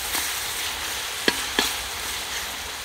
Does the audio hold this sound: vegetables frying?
yes